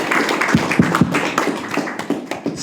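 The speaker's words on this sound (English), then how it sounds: "we want to hear the round of applause for Ken Michaels" A small audience claps for Ken Michaels, with scattered, uneven hand claps and taps over a few seconds at moderate loudness.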